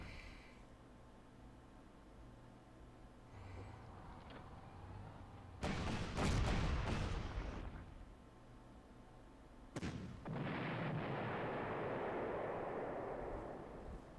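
Artillery fire in the WWII strategy game Panzer Corps: two sudden loud blasts, the first a short sharp boom and the second a longer rumbling barrage that trails off, over a quiet low background hum.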